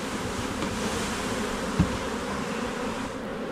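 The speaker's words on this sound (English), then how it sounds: "Now it's time to dump the other 5 pounds of bees in." A dense, continuous buzz of many honey bees swarming close by as they are dumped into a hive, steady throughout with one brief soft thump partway through.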